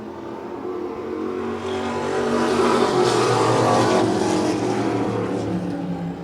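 Race cars roar around the track at Wiscasset Speedway, a loud, continuous wash of engine noise that swells in the middle as the field passes by.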